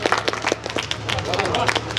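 Audience applause at a Hindi satirical poetry recital, a dense patter of many clapping hands filling the room at steady volume, with crowd murmur and a voice underneath.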